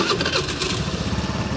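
A Sparkle 125i scooter engine cranks and catches, settling into a steady, buzzing putter close by with no talking.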